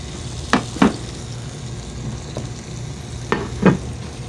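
A salmon fillet being glazed with sauce sizzles softly in a pan, with a steady frying hiss broken by a few brief scraping or stirring sounds in pairs.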